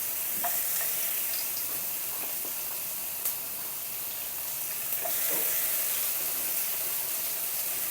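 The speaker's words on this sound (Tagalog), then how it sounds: "So, ngayon ay magigisa na tayo." Garlic sautéing in a hot pan for spicy binagoongan eggplant, a steady low sizzle with faint stirring scrapes and a couple of light clicks, fairly quiet and without speech.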